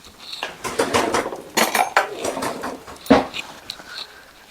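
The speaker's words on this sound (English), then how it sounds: "Let me grab a spoon for this." A metal spoon is pulled from a drawer of cutlery, making a few sharp clinks and rattles close up. A dog whimpers faintly between the clatters.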